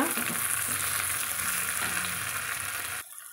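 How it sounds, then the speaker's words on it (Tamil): Onion and tomato sauté in a pan for sambar, sizzling loudly and steadily with faint stirring, then the sound drops off abruptly near the end. "ஒரு தக்காளி வந்து வெட்டி வச்சுக்கிறேங்க. அதையும் சேர்த்திக்கலாங்க. சேர்த்திட்டு நல்லா வதக்கிலாங்க."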